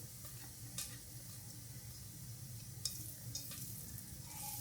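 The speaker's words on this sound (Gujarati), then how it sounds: "તો મેં અહીંયા જીરાથી વઘારી નાખું છું" Cumin seeds sizzling in hot oil while tempering for palak paneer bhurji, a soft continuous fry hiss with scattered sharp pops and crackles, fairly quiet and close.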